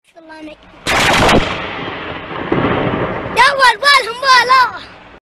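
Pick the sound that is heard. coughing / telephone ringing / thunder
thunder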